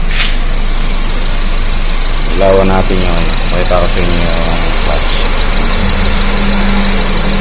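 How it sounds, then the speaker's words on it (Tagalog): A Honda Civic FD engine idles steadily with the air conditioning running, a continuous low hum and rattle sitting beneath someone talking close by. "Umaandar pa rin yung makina."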